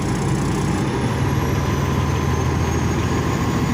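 A semi truck's diesel engine is held at a raised idle near 1,000 RPM, giving a steady, loud, close low rumble with no pauses.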